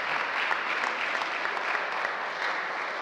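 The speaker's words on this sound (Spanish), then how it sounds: "El aplauso fuerte para ellos." A crowd applauds loudly during a presentation of the Bravos de Nuevo Laredo football team: a thick, steady wash of clapping with a faint crowd murmur underneath, holding an even level from start to finish.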